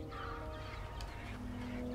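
Birds clucking and honking in the adventure video game Broken Age, a steady low squawking chatter with a few brief calls over a faint background hum, heard alone without talk.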